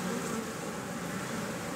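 A swarm of killer bees gives off a loud, dense, continuous buzzing drone close by, unbroken and with no voices.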